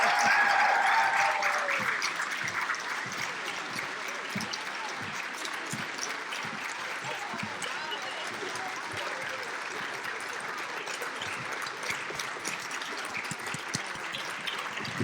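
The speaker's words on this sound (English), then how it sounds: "Let's give her another round of applause for that awesome speech." Audience applause after a speech at an awards and scholarship ceremony, a burst of clapping that settles into sustained, moderately loud applause with a voice briefly heard at the start.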